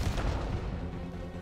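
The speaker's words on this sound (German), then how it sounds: "da hat er jetzt aber schön kassiert mit der Kanone" A heavy boom from cannon fire in Call of Duty Black Ops 6, one deep, loud blast followed by a rumbling decay, with no voices over it.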